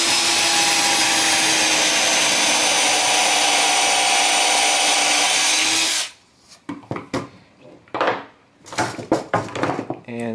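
A power drill whirs steadily for several seconds as a screw drives into the wood of a coffin prop, then cuts out, followed by a few scattered knocks and handling clunks.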